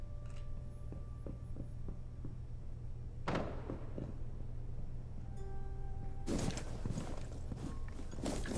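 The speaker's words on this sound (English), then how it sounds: "Swapping mags." Magazine swap during a reload in Rainbow Six Siege: a few close mechanical clicks and clacks, one sharp metallic snap midway, then a louder burst of clattering handling noise over a steady game background hum.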